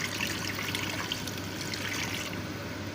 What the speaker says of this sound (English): now I will add in 3 cups of water.